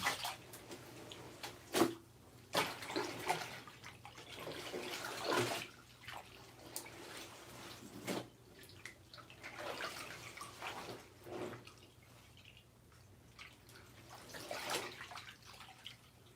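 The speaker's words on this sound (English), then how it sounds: "I'm letting this water out." Hot soaking water draining out of a bathtub after washing clothes in it, a soft, continuous gurgling and trickling with intermittent splashy surges, fairly faint and heard alone.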